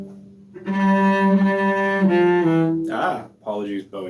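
Cello playing the pick-up into measures 37 to 40 of the Suzuki Bourree, a short phrase of sustained bowed notes alone, with a slight bow noise near the end.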